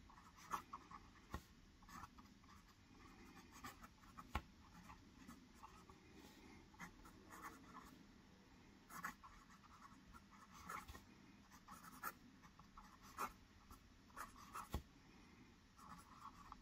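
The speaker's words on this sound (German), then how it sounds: "Kleines Schreibbeispiel auch hier." Titanium medium-nib Himmelsstier fountain pen writing on paper, a faint close scratching that rises and pauses in uneven strokes for about sixteen seconds with no talking.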